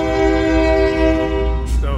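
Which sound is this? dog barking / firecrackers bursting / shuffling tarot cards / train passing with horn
train passing with horn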